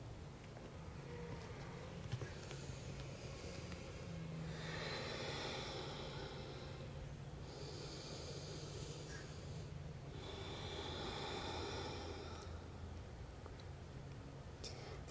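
Slow, deep nasal breathing during a yoga forward fold, three long soft inhale-exhale swells heard close and quiet over a low steady hum, with no talking.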